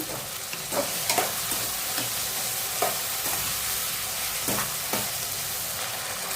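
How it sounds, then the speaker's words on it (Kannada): Potatoes and tomatoes frying in oil for masala upma, a steady crackling sizzle broken by repeated scraping clicks of a spoon stirring in the pan, with no voices. "ತೊಳೆದಿಟ್ಕೊಂಡಿರೋ ಆಲೂಗಡ್ಡೆನ ಹಾಕೋಣ ಆಯಿಲಲ್ಲಿ ಸ್ವಲ್ಪ ಫ್ರೈ ಆಗಲಿ ಅದು"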